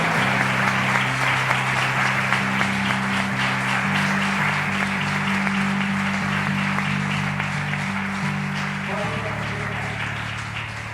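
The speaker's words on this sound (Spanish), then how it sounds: "Le damos el mejor aplauso al Señor por su palabra. Vamos, apláudele más fuerte," Church congregation applauding in a continuous, dense wash of clapping heard under sustained music, gradually fading slightly toward the end.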